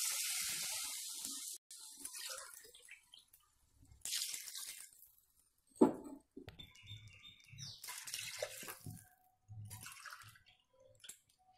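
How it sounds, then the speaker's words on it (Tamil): Water pours and splashes into a pot in short bursts for cooking noodles, with pauses between pours and a few faint clinks. "அதனால் 4 கப் தண்ணி ஊற்றிக்கலாம்"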